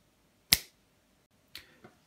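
One sharp, crisp finger snap rings out in a quiet room, followed a second later by two fainter, softer snaps.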